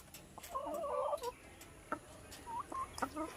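Chickens clucking on a rural homestead, a burst of rapid clucks followed by a few short, sharp calls, fairly close and alone over quiet background.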